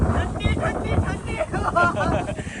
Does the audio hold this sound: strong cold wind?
yes